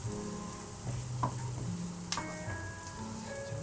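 Onions frying in a pan for a minced beef and onion pie, a soft, steady sizzle close by with a few light clicks and taps of a utensil, fairly quiet and without talk.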